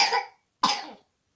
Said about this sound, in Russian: ну что такое, а не кашляй